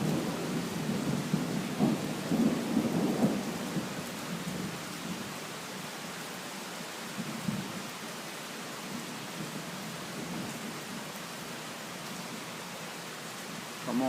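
A late-night thunderstorm in Riga, with steady rain hissing throughout and deep rumbles of thunder rolling in the opening seconds and again briefly midway.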